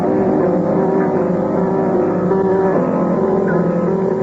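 A ship's engines rumble steadily as the vessel leaves the harbor in a radio drama, a loud, continuous low drone with a faint tonal hum and no voices.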